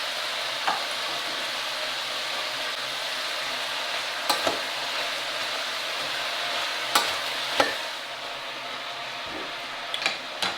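Onions fry gently in coconut oil with salt and bouillon, giving a soft, continuous sizzle broken by a few sharp clicks and taps of a stirring utensil against the pan.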